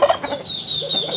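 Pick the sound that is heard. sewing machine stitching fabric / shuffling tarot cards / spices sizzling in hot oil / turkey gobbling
turkey gobbling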